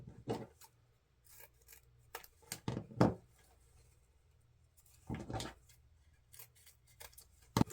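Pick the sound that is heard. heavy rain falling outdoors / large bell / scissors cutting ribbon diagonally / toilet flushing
scissors cutting ribbon diagonally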